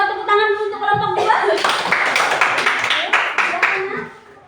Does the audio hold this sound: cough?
no